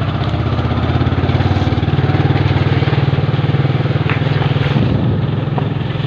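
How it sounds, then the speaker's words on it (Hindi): Motorcycle engine running steadily while riding, a loud, continuous close-up drone with an even pulsing throb throughout, no talk over it. "और बाइक से जा रहे हैं अभी,"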